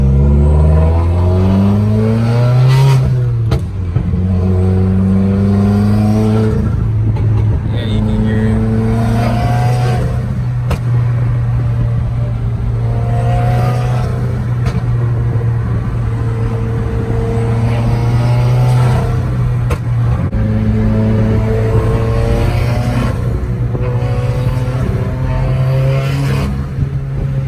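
Loud, droning turbocharged Subaru WRX engine with a straight-pipe exhaust, repeatedly revving up and settling back, close by; a voice speaks briefly over it.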